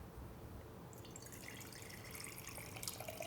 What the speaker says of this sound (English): I'm just going to pour it directly in here.